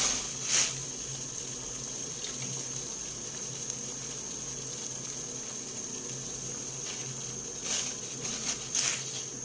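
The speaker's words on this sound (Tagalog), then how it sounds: "Kumukulo na po yung ating tubig at kuluan na." Steady watery bubbling and hissing from a pot of water boiling for sinigang, with a few louder gurgling bursts near the start and end.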